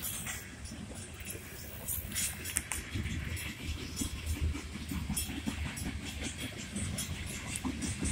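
A CSX freight train rolls past with steady rumbling and rhythmic clickety-clack of wheels over rail joints, a continuous mid-distance roar filling the whole stretch.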